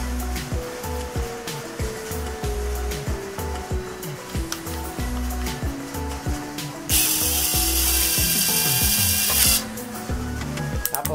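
Nanwei 48VF brushless cordless 3-in-1 impact drill with its torque-adjustment clutch slipping, a loud rapid ratcheting clatter with motor whine, briefly joined by a harsher high hiss before the ratcheting resumes.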